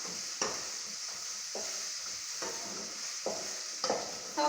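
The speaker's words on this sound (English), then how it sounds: "I'm adding my carrots now, my green pepper and my beef. And I'm letting them get cooked now." Carrots, green pepper and beef cook in hot oil, a steady soft sizzle running throughout with several louder stirring scrapes and clatters spaced irregularly across the clip, close and fairly quiet, with no talking.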